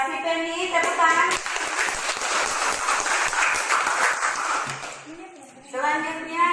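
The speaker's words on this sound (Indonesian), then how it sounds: "Tepuk tangan." A room full of people claps together for several seconds, with voices heard briefly before and after the applause.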